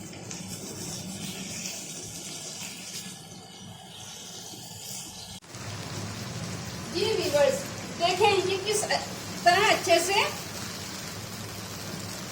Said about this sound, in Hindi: अब मैंने इसे थोड़ी सी देर अच्छे से भून लेना है।